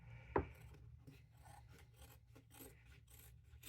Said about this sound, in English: let's cut this in half.